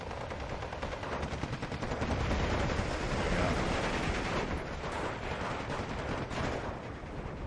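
Howitzer artillery fire in Steel Division 2, a dense, continuous barrage of loud gunfire and blasts rumbling without pause, with a caster speaking faintly underneath.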